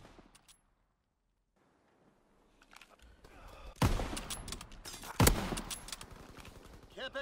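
Call of Duty gunfire starts after a quiet stretch and builds into dense, loud bursts of shots, with two sharp, heavy reports standing out above continuous rattling fire.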